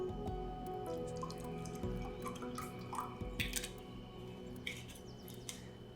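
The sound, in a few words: water poured into a cup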